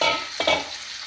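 Radish and carrot pickle with whole red chillies being stirred and mixed with spices, a brief wet tossing scrape near the middle over a steady hiss.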